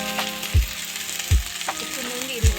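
Chopped onion frying in a pan sizzles steadily, broken by three loud, regular thumps or scrapes of stirring about every 0.9 seconds.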